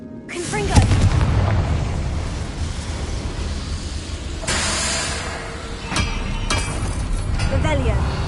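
A Confringo fire spell blasts in the Hogwarts Legacy video game, a loud booming explosion that rumbles on under game noise, with further sharp impacts and a voice shouting near the end.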